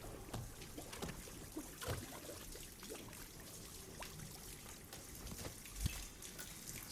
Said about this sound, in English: we're going to turn on this this faucet right here, overflow the sink